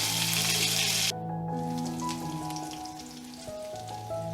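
Curry leaves stirred in a hot pan for aloo poha, giving a loud crackling sizzle at first that settles into a softer, steady frying hiss with faint scraping.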